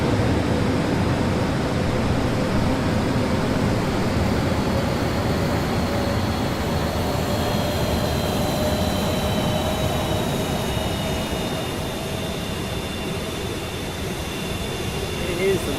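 Jet engine of an English Electric Lightning in a flight video game, a steady dense roar with thin drifting whine tones, loud and unbroken, while someone talks over it.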